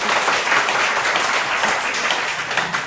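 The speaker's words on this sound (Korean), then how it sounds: "우리 살아계신 주님께 다시 또 한번 박수 합니다." A church congregation claps after a prayer in a worship service; a loud, dense, continuous round of applause that carries on steadily to the end, with no one speaking.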